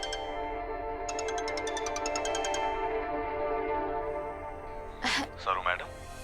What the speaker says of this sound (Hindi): ये बालाजी का फोन अट्ठे हमारे कमरे में कैसे आ गया?